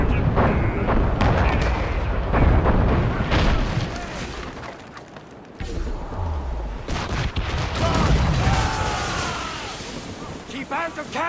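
Naval cannon fire in Assassin's Creed Rogue, heavy booming shots and rolling blasts across open sea, layered under shouted crew voices and orchestral music, with repeated loud impacts throughout.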